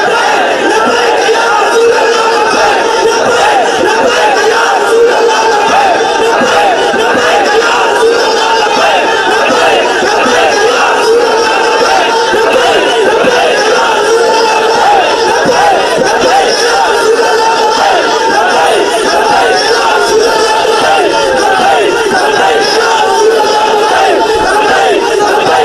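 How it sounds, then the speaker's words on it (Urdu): A large crowd at a religious-political rally chants the slogan Labbaik Ya Rasool Allah, a loud, dense roar of many voices sustained without a break. "سارے بولو لبیک یا رسول اللہ۔"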